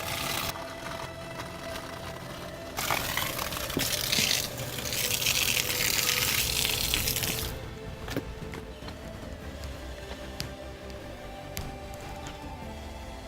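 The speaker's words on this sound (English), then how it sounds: "that's no nozzle. That's the amount of water that comes out." Water gushes from an open garden hose with no nozzle in a strong rushing hiss for a few seconds, then cuts off, leaving faint clicks and background noise.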